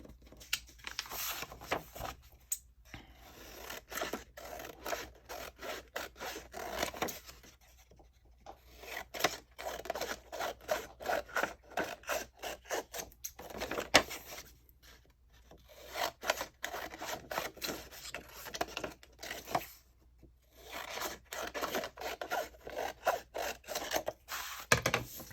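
Repeated rasping strokes of cutting or trimming paper material for a handmade honey bee journal, coming in rhythmic bursts with brief pauses, close and fairly soft.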